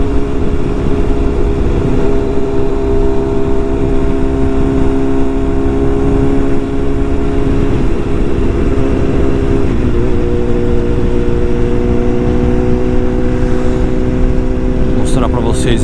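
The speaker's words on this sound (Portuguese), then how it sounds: "a Vestron 1000, e o Zé Maria com a Vestron 650, novinha, moto bonita" Loud, continuous motorcycle engine drone from Kawasaki Versys and Suzuki Hayabusa bikes riding on the road, a steady roar with wind rush and no clear pauses throughout.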